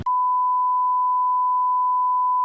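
A steady, continuous censor beep: a single pure electronic tone held at constant loudness for about two and a half seconds, with no talk over it.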